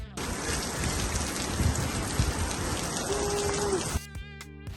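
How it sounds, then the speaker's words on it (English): Steady, heavy rain pours down in a dense hiss for several seconds in Baviaans Canyon, then cuts off abruptly. "We managed about 10 minutes in the water before the rain finally caught us again."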